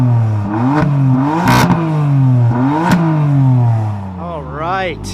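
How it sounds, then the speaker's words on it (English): A 2016 BMW M3 with a carbon fiber roof revs hard several times, the engine climbing and falling in rising sweeps with loud exhaust roar, ending in a quick high burst of revs. "let's do some rev time with Vanessa."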